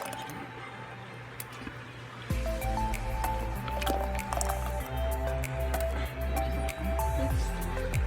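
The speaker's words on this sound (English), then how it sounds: "You want to fill the jars up to be 1/2 inch headspace." Homemade spaghetti sauce being ladled into glass canning jars, with wet squishing and dripping pours over a steady low hum, the thick liquid gurgling into the jars in a series of close pulses.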